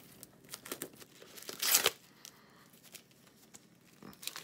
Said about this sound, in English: Now let me get the plastic off.